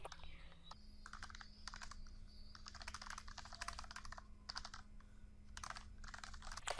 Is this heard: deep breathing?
no